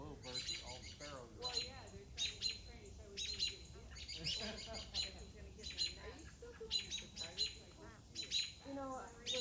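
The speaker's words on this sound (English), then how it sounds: "All the little birds, all the sparrows." Small sparrows chirp and tweet in quick, scattered bursts outdoors near a historic tomb and receiving vault, with intermittent human voices in the background.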